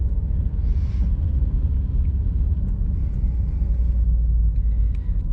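A manual stick-shift car driving along with its engine running, a steady low rumble heard from inside the cabin, continuous and fairly loud, with no talking.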